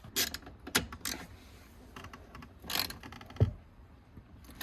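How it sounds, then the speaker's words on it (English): Tightening steering column bolts on a BMW E36 during a column rebuild: a few scattered close metallic clicks and ratcheting tool sounds with soft clunks and pauses between, fairly quiet, no speech. "And then I'm going to go ahead and tighten those 2 column bolts."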